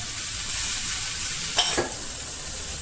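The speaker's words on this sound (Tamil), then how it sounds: "தட்டி வச்ச பூண்டு கொஞ்சம் போட்டுட்டு வதக்கிட்டு இந்த பீன்ஸை போட்டு இதில் போட்டுடலாம்" Crushed garlic and green beans sauté in a pan with a steady, close sizzle, broken by one short scrape of stirring near the middle.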